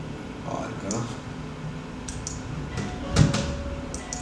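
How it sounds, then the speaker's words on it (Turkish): Someone knocks on a door a few times; the raps are soft and uneven, scattered through the clip over faint room noise, with one slightly firmer knock near the end. "Evet, kapı çaldı"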